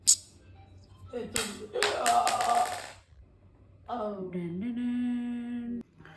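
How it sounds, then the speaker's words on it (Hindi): A pair of oval rattlesnake egg singing magnets snap together in a few quick, close clacks that leave a brief buzzing ring, followed by a sustained tonal sound that may be a nearby voice. "इसको कहते हैं सिंगिंग मैग्नेट।"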